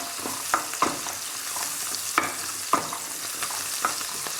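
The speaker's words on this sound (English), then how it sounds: "As the herbs begin to release their aroma, I'm going to begin to add the onions." Onions frying softly with herbs in a pan over low heat, a gentle steady sizzle broken by several sharp utensil clicks and scrapes as they are stirred, close and without voices.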